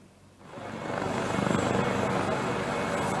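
An Indonesian Air Force search and rescue helicopter, a Caracal or Super Puma, searching for crash victims and debris: a loud, continuous rotor and engine roar that swells in within half a second and holds steady until it cuts off.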